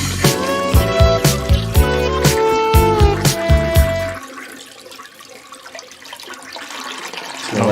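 A home toilet flushes loudly at close range, rushing water with knocking bursts for about four seconds, then fading into a quieter trickle as the tank refills.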